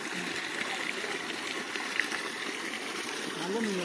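A small stream of water near Nenmini waterfall runs as a steady, close trickling wash with a constant rushing hiss throughout, and faint voices sit low beneath it.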